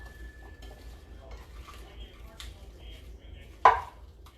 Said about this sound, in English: And I'm just going to toss that around.